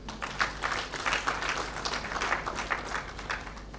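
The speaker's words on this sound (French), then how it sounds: "Je vous demande de vous applaudir" An audience at a book launch ceremony on customs offence litigation gives brief, fairly soft applause: a modest flutter of clapping that holds steady for a few seconds.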